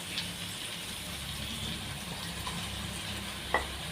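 Tomato frying in a pan with ginger garlic paste gives a steady, fairly quiet sizzle with a soft low rumble, ending in one brief sharp clink near the end.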